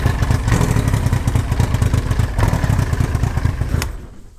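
An old boat motor with a replaced fuel pump runs loud and close, a rough, clattering drone broken by sharp misfire pops before it cuts out near the end.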